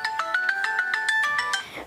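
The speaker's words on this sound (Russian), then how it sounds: "У нас... это мой телефон, извините." A mobile phone's ringtone plays loud and close, a bright repeating electronic melody of evenly spaced tones that fades out at the end.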